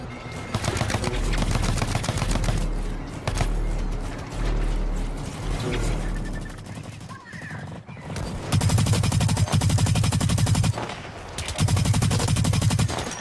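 Sustained bursts of rapid automatic gunfire in the online shooter Blacklight: Retribution, loud and close, with a short lull midway before heavy firing resumes in long strings.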